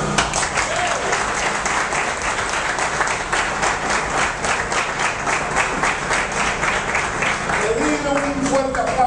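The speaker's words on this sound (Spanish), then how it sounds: "pedir un fuerte aplauso para Pastor Carranco." Sustained applause from an audience at a political party's provincial office opening in Santo Domingo Este, dense steady clapping filling the room for several seconds, with a voice briefly audible over it near the end.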